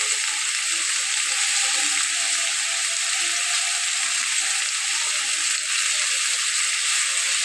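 Ground coriander, cumin and salt sizzle steadily in hot oil for a spicy goat head masala curry, a loud, continuous frying hiss with faint stirring and no voices.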